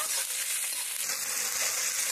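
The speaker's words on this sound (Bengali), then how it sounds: "একটু ভেজে নেব।" Chopped onion and tomato fry in a pan, giving a steady, close hiss of sizzling oil that runs unbroken throughout.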